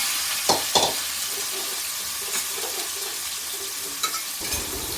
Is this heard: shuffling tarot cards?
no